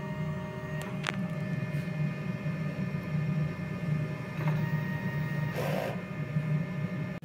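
A DTF printer running a print head cleaning cycle: a continuous low mechanical hum with faint whirs and a few soft clicks, steady and close, with no talk.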